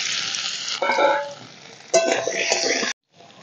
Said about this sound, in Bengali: এই যে আলুগুলো আমি হালকা করে ভেজে নেব